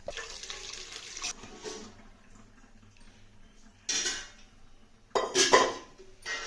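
Tomato rasam is poured through a filter into a vessel, giving short splashing, trickling bursts of liquid between quieter stretches, with light clinks of kitchenware.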